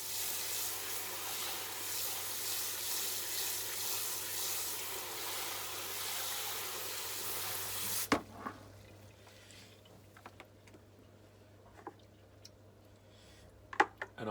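Water drains from a bucket of tomato seeds through a hose as a steady, fairly loud rushing hiss, then stops abruptly, leaving quiet background broken by a few faint drips and taps.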